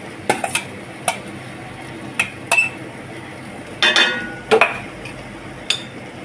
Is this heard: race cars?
no